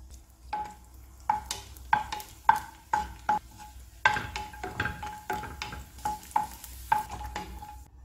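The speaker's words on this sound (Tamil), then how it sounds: "முந்திரி திராட்சையை வறுத்து எடுத்துக்கணும்" Cashews and raisins roast in ghee in a pan as a spoon stirs them, giving a soft sizzle broken by about a dozen sharp metallic clinks in an uneven rhythm.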